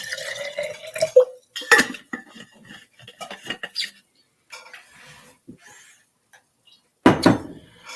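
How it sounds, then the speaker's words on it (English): Water is poured into a small container for rinsing paintbrushes, with close, sharp clinks of glass or ceramic and short splashing bursts separated by quiet pauses. "I need to put some water in here for my brushes."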